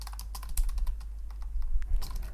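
Fingers tap out a prompt on a computer keyboard, a quick, close, uneven patter of keystrokes with no talking.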